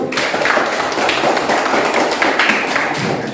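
A classroom of students claps for a discussion group, dense rapid hand-clapping that fills the room, loud and close, with almost no talking over it.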